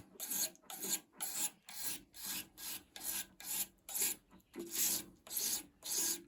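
A knife blade stroked firmly against a sharpening stone to raise a burr, about a dozen evenly spaced rasping strokes in a steady back-and-forth rhythm, close and fairly quiet, with no voices.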